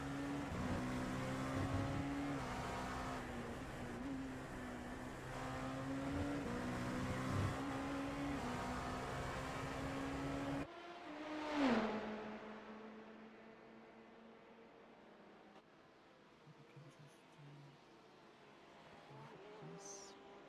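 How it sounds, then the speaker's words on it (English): Onboard engine note of an LMP2 race car lapping Monza in sim racing, a loud sustained drone rising and falling through gear changes, then a sharp high whine and a downshift, followed by a quieter engine hum. "let's listen to what it feels like to be in an LMP2 car around Monza"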